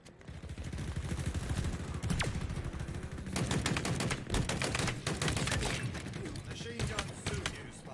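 Machine gun fire from the Halo Infinite video game rattles almost continuously in dense, overlapping bursts of shots. Game effects mix in, and a faint voice may be present underneath.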